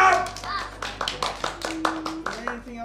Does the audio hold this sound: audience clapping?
yes